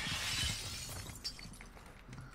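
Glass shatters in the shooter game Warzone 2, a loud crash of breaking glass followed by scattered tinkling fragments and low game noise, with no voices.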